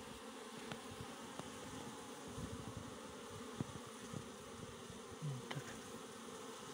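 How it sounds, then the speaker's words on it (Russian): Honey bees buzz steadily at a hive, a dense, continuous drone close by with occasional louder passes of individual bees, with no voices. "Ревут, загудели пчелки."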